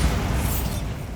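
A Bombarda explosive spell detonates in Hogwarts Legacy, giving a dense, loud blast with deep low rumble. The sound holds strongly for about a second with no voices over it.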